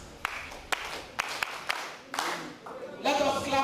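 Workshop attendees clap in scattered, separate claps that thicken into a short burst, with a voice and some murmuring rising near the end.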